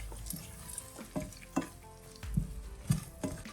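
Shrimp are being stirred in a buttery sauce in a pan, a soft sizzle running underneath while a utensil scrapes and taps the pan in a few uneven, close strokes.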